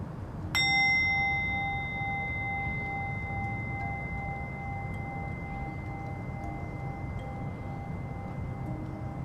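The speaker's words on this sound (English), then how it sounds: "When I ring the bell, I'm going to ask for you to close your eyes" A single bell strike in a yoga class rings out clearly, then its pure tone hangs and slowly fades for several seconds over quiet room ambience.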